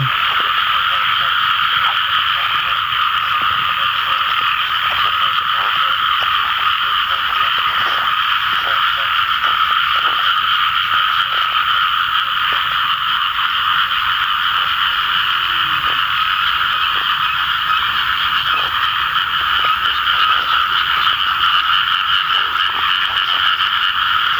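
A loud, dense chorus of frogs croaks continuously after the first rain, a steady wall of many overlapping calls with faint clicks and distant sounds beneath.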